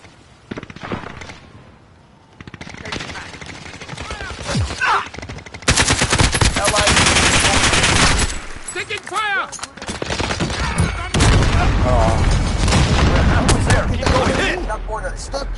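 Automatic gunfire in the Modern Warfare PSVR multiplayer game, with dense loud bursts and sustained rattling volleys near and far, and players talking over the shooting.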